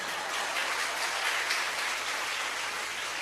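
Congregation applauding during a worship service at GKE Sakati church, a continuous wash of many hands clapping at moderate volume, with no one speaking over it.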